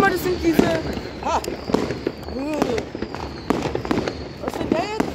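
Firecrackers and fireworks bursting on New Year's Eve, a string of sharp cracks and bangs at varying distances, mixed with excited voices talking and shouting throughout.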